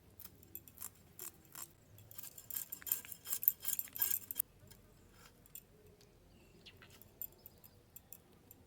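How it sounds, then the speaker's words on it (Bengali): Snakehead (lata) fish being cut by hand, a soft run of wet chopping and scraping taps at close range, busiest in the middle, then thinning to scattered small clicks. "আর একটা মাছ কাটলেই কাটা হয়ে যাবে।"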